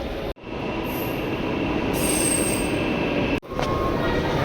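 Delhi metro train running through Kashmiri Gate station, a loud steady roar of wheels on rails with high squealing, broken by two brief dips in the noise.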